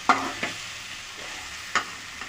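Egg and capsicum are stir-fried in a pan, with a soft steady sizzle broken by a few sharp spatula scrapes and clacks against the pan.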